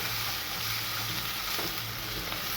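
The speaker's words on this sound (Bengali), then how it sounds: "এখন আদা রসুনটা আমি পেঁয়াজের সাথে কিছুক্ষণ ভেজে নেব" Ginger and garlic fry with onions in hot oil, giving a continuous close sizzle and hiss with faint stirring scrapes and no talking.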